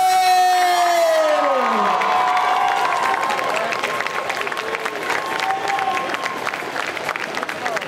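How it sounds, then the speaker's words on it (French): An audience at a Geek Legends cosplay costume contest in Chalon-sur-Saône applauds and cheers in a sustained wash of clapping and whoops, following a fading amplified tone, with a crowd-filled hall ambience. "Je vous demande un tonnerre d'applaudissements pour le gardien d'Azeroth et de l'Alliance, Zegoro Cosplay!"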